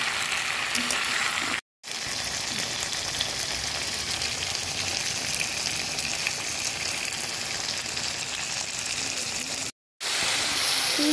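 Bananas cooking down as bhuna in a pan sizzle and crackle steadily up close, with two brief cuts of silence breaking the continuous frying noise.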